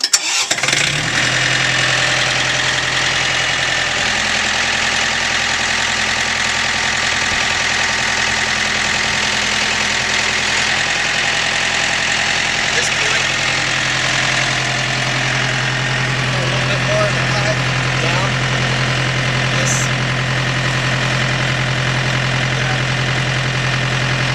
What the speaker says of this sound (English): Now, I start the tractor up.